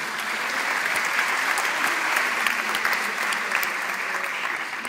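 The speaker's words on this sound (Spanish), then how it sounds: "Un aplauso" Audience applause at a medical lecture on sweeteners, a steady, fairly loud wash of many hands clapping that holds evenly throughout with no voices over it.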